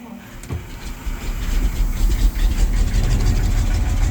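A heavy truck engine with a five-speed main transmission and four-speed auxiliary idles with a deep, steady low rumble, close and continuous after a brief knock at the start.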